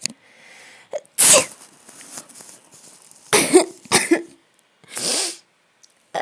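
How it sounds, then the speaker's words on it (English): A person sneezes sharply and loudly several times in close succession indoors, each burst followed by short breathy pauses. "Oh god, I gotta sneeze."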